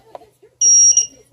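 A loud, steady electronic beep from an Eachine 180 tilt-rotor FPV racing drone's transmitter on unlocking, sounding in one sustained tone of about a third of a second. A second brief chirp follows, with faint handling noises before and after.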